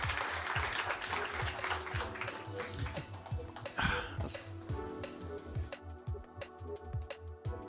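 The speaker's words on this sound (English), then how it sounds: "let's give our panelists a round of applause" An audience at a tech summit livestream applauds panelists, producing a steady wash of clapping that runs throughout, with talk over it.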